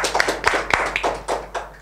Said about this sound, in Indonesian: Tepuk tangan untuk Bapak